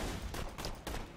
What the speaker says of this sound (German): Boah, jetzt hör mal auf mich zu schießen, das nervt.